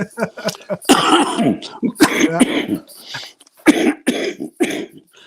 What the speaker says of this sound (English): having one of his coughing attacks